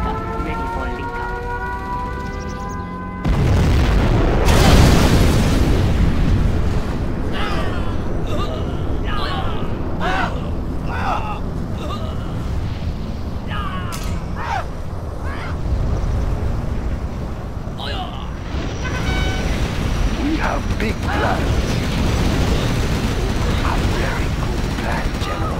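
A nuclear missile strikes in the strategy game Command & Conquer Generals Zero Hour, bursting in with a sudden loud blast a few seconds in, then rolling into a long, heavy rumbling roar with mechanical clatter layered through it.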